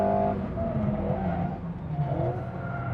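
Alpine A110 sports car being driven hard through a corner, braking then lifting off the throttle mid-bend; engine note drops with faint tyre scrub, steady and close throughout with no talking.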